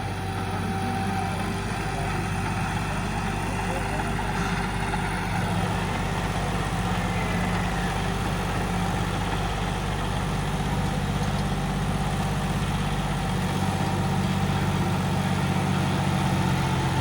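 A Sonalika 35 tractor running in a field with an 8-foot super seeder attached. The diesel engine gives a steady, heavy, low rumble that holds at an even level throughout, with no talking.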